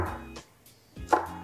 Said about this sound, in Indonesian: ini kita potong-potong kasar agar waktu memblendernya